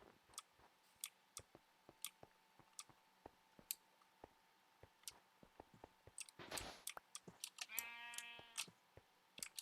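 Sheep in Minecraft bleating once, loud and close, near the end, after a run of quick game clicks and taps; a rising harmonic cry follows.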